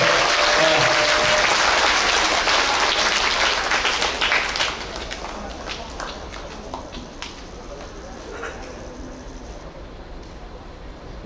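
Loud applause from a concert crowd at an outdoor yanggeum performance with a band at Seoul Nori Madang, strongest at first and then easing into steady, softer clapping that carries through to the end.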